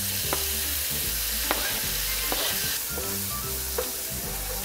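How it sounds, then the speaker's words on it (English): Kimchi fried rice with Spam hisses and crackles steadily in a hot pan, while a utensil scrapes and taps against it every second or so. "Ooh, hear that sizzle."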